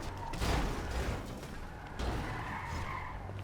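Car tires skid and screech in GTA 5 over a steady, dense engine roar, the skid running continuously through the clip with a renewed surge midway, loud and close, with no talk.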